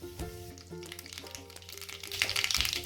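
Whole spices (cardamom, cinnamon pieces, bay leaves) and mustard seeds fry in hot oil for chole masala, a close steady sizzle with scattered crackles and pops that grow busier toward the end.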